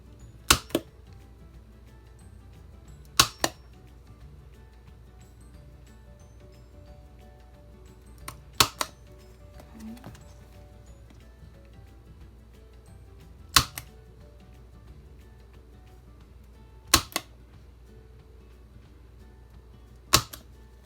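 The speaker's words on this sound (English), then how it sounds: "I'll just use my 1/8 of an inch hole punch to do the holes at the bottom." A 1/8 inch hole punch punches holes in a laminated journal cover, giving sharp, close snaps that mostly come in quick pairs, spaced several seconds apart against near silence.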